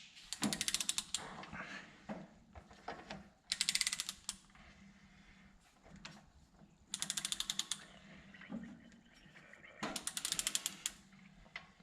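Torque wrench tightening a wheel hub to 50 foot-pounds on a K5 Blazer, four bursts of rapid ratcheting clicks spaced a few seconds apart, fairly close and steady, with no voices.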